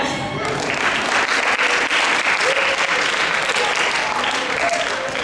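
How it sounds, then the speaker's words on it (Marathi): Steady, dense applause from a school annual day audience after a children's stage performance, loud and sustained throughout, with a few faint voices mixed into the clapping. "सगळ्यांसाठी खूप टाळ्या"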